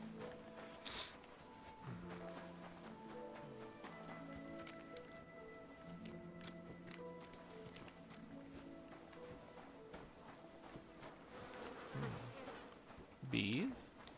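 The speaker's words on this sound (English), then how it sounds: "Bees?" Bees buzzing in a stealth video game, a soft insect drone running underneath layered game music and tones, quiet throughout, with a couple of brief louder rustles near the end.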